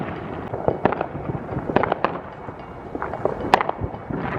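Neighborhood Fourth of July fireworks in America go off in a rapid string of sharp bangs and crackling pops, some close and loud, others farther off, overlapping in uneven bursts.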